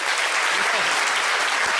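A large audience claps steadily to welcome speaker Robin Dreeke, a dense, even wash of applause that holds at full strength from start to finish.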